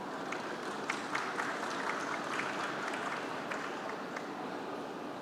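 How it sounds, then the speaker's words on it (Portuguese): Conference attendees at a ports and airports forum applaud a panel speaker walking up, a faint, continuous patter of many hands from across a large hall, with scattered sharper claps standing out. "Convidamos com os aplausos Mariana Pescatori."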